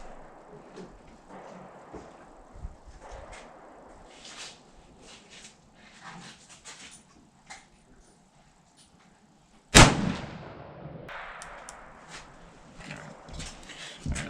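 A Savage Axis .308 rifle fires a single loud, sharp gunshot outdoors, followed by a decaying echo. Quiet rustling and shuffling come before it.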